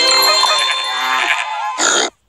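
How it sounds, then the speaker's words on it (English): Cartoon pigs from a children's counting game let out a pair of loud grunting oinks, a long squealing snort followed by a short second grunt, then silence. "How many pigs are hiding in the barn?"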